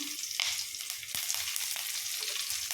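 Fenugreek and mustard seeds fry in hot oil in a pan, giving a close, steady crackling sizzle with light stirring scrapes and small pops throughout.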